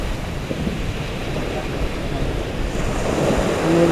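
Sea waves breaking on the shore at a beach in Occidental Mindoro, a steady wash of surf with wind buffeting the microphone, growing slightly louder toward the end.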